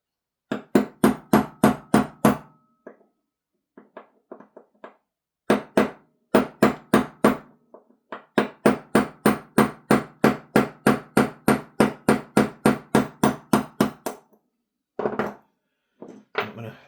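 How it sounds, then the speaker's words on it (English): A hammer taps repeatedly on a Scar-L gas blowback airsoft rifle, knocking a bolt part loose during disassembly. The sharp, close, evenly spaced knocks come in quick bursts with short pauses between runs. "we can tap it with a hammer to get it off"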